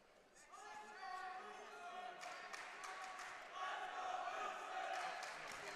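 Crowd noise at a college wrestling championship match: a steady roar of voices and cheering that swells in the second half, with a hubbub of shouts throughout.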